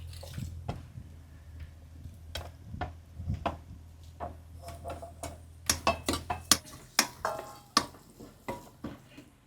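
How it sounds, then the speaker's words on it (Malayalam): Okra curry bubbling in a pot, with soft, irregular pops and drips over a low steady hum, plus occasional sharper clicks and clinks that grow louder toward the end; no voices. "കൂട്ടാൻ അടിപൊളിയായിട്ട് തിളയ്ക്കുന്നുണ്ട് കേട്ടോ"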